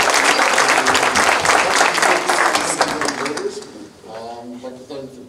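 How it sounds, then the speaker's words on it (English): An audience at a PTA meet-the-candidates forum applauds the timekeepers, with dense, loud clapping that fades toward the end while a voice speaks through it. "may we have a round of applause for our timekeepers"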